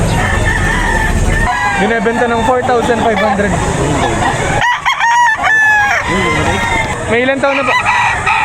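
Roosters at a chicken market in Lipa, Batangas crow repeatedly, loud and close, with rising and falling calls over steady background chatter and a voice speaking.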